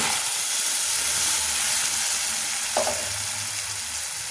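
Ground spice paste hitting a hot pan with potatoes and frying, a continuous loud sizzle and hiss with a brief scrape of stirring partway through.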